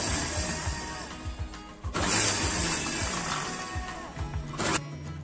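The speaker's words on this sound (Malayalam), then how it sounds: "എന്നിട്ട് വീണ്ടും ബീറ്റ് ചെയ്യാം." Egg and sunflower oil are beaten into homemade mayonnaise with an electric beater, a continuous buzzing whir with rattling bumps against the bowl and one sharp surge partway through, close and fairly quiet.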